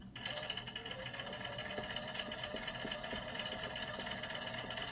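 A domestic sewing machine stitches quilt pieces for a sawtooth star block, its steady close mechanical whir running continuously without a break.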